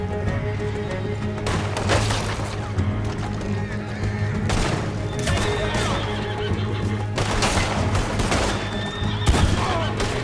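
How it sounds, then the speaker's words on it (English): Horses whinny and neigh in Red Dead Redemption 2, several loud, shrill calls rising over a busy game scene with bursts of gunfire and booms throughout. "See the horses?"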